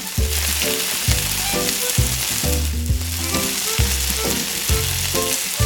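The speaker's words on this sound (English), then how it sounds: "Now we will fry 2 parts of the cake. Drop the cake into the pan." Small cake pieces fry in a tiny pan, giving a steady bright sizzle that runs under rhythmic background music throughout.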